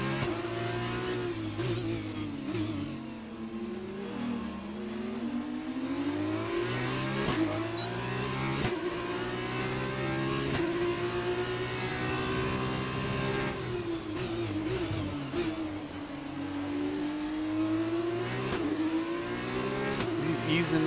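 A Super Formula race car in a racing video game at Singapore, its engine droning steadily and loudly throughout, with the pitch rising and falling as the throttle is eased on and off through corners.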